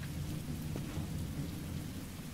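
Steady rain with a low thunder rumble in The Walking Dead: Michonne video game, a faint, continuous wash of falling water with no voices.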